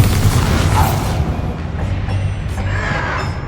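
A Bombarda spell explosion in the Hogwarts Legacy video game, a booming blast with a rumbling low tail and some crackling debris over a few seconds, fairly loud against game background sounds.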